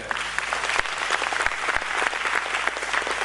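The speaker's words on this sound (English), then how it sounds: "I think this round of applause justifies that." An audience at a talk session applauds steadily throughout, a dense even wash of clapping from many hands with no voices standing out.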